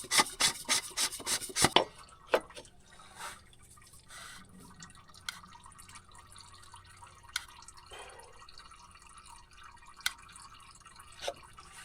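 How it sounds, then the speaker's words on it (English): Fluid drips from a part of a John Deere 960 field cultivator during a sweep upgrade. A burst of rubbing and rasping opens, then faint, sparse single drips follow at irregular intervals in a quiet setting. "that's dripping just a little bit, but you never get it all out"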